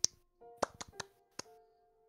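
Sharp hand claps ring out in a quiet room, one at the very start and a few more spaced through the two seconds, with faint tones and light movement between them.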